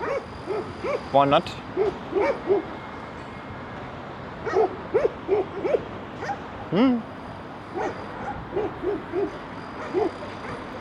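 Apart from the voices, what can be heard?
dogs barking on a street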